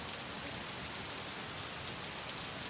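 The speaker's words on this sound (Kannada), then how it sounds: "ಸತತವಾಗಿ 4 ದಿನಗಳ ಕಾಲ ಮಳೆ ನಿರಂತರವಾಗಿ ಧಾರಾಕಾರವಾಗಿ ಸುರಿತಾ ಇರುವಂತದ್ದು" Heavy rain pouring down in Bengaluru, a dense, even hiss of drops striking surfaces that stays constant and fairly quiet throughout, with no voices.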